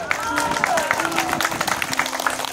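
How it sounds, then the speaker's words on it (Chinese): Audience members at an outdoor lawn concert applaud the speaker's mother, irregular moderate clapping with a faint tonal whistle and crowd murmur beneath. "来再给我妈妈鼓掌一下，好不好？"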